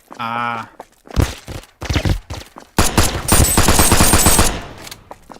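Rapid automatic gunfire from a video game shooter comes in loud bursts with short gaps, preceded by a tonal game sound, with a voice talking briefly over it.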